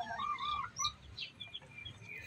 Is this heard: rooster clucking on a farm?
yes